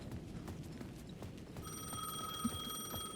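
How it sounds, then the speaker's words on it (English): Payphone ringing at the edge of a plaza in the video game Alan Wake 2: a faint, sustained electronic ring that starts partway through and holds steady over a low, muffled background with soft footsteps. "The payphone at the edge of the plaza was ringing again."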